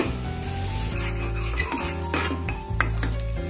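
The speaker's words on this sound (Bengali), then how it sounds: "এটা দিয়ে এখন ভেজে নেব। এটা ভালো করে কষে নেব।" Grated coconut frying with spices in a pan for a Bengali-style chana dal dish, with a steady sizzle under repeated scraping and stirring strokes of a utensil against the pan.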